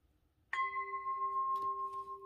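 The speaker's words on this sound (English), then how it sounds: "This is the root chakra tone," A sustained 285 Hz root chakra tone starts abruptly after a moment of quiet and holds steady as a clear, pure pitch with a few faint overtones, fairly soft and alone.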